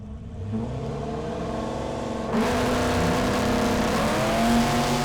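A Camaro and a Mustang drag race on a no-prep strip, engines rumbling in rising revs before a sudden surge into full-throttle acceleration that stays loud and close.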